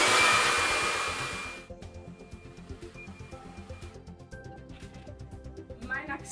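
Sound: blow dryer drying hair with vent brush

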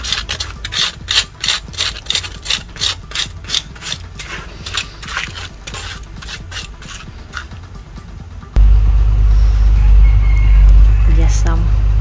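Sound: scraping charred skin off grilled snakehead fish

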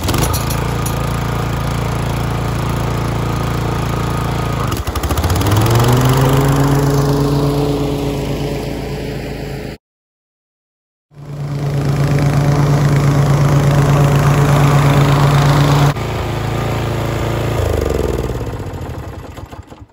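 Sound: Timemaster lawn mower mowing the lawn

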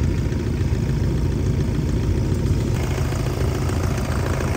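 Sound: camper van engine idling in arctic cold

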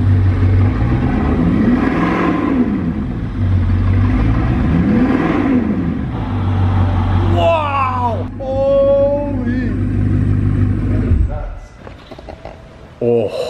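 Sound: Bugatti Chiron engine revving

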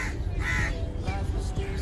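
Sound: birds calling in a garden

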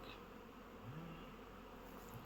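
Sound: honeybees flying at an apiary

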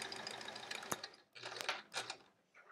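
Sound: sewing machine stitching quilt pieces

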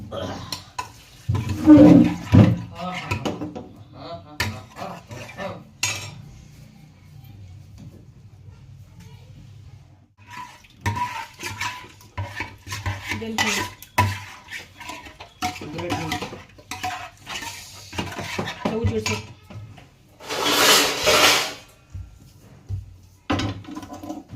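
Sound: tempering spices in hot oil

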